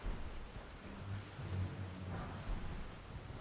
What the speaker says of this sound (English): It's raining now. That's cool.